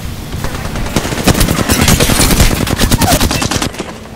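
Rapid automatic gunfire in the battle royale game Apex Legends, loud, close and continuous bursts of shots over about four seconds with no talking.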